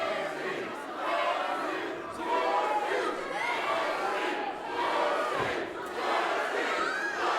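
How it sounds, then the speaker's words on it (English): A wrestling crowd at a Juggalo Championship Wrestling event keeps up loud, chant-like yelling and jeers at a wrestler, rising and falling in steady waves with the mixed voices of a packed arena. "the JCW crowd letting Kerry know how they feel about cats"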